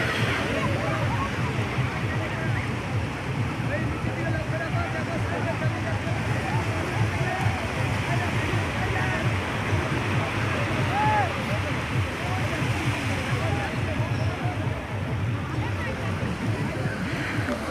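Sea waves washing onto the shore at Bakkhali beach during a rising tide, a steady, continuous surf roar and slosh running unbroken throughout, fairly loud and close, with no voices over it.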